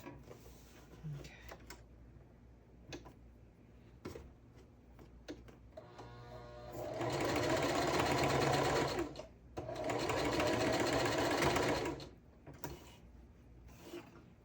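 Sewing machine stitching a seam closed with pink thread on purple fabric, two loud sustained runs of rapid stitching after scattered handling clicks and knocks, close with no talk.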